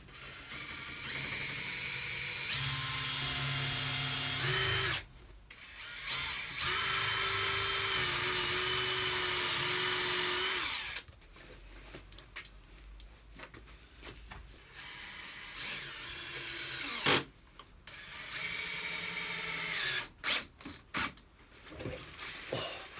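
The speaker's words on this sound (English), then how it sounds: "Just need to drill deep enough holes for it." A power drill whines loudly drilling holes into a 2x4 wooden bench frame, in two long sustained runs, then a series of shorter, stop-start bursts, close to the microphone.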